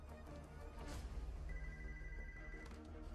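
A telephone rings with a steady electronic tone, heard fairly faintly over a low background hum.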